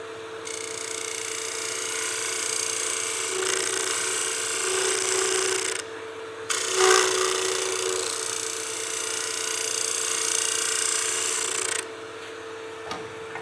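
A bowl gouge cutting wood on a lathe, making fine shavings while turning a pot: a continuous, loud, even rasping hiss that holds for long stretches, with brief pauses where the tool lifts off.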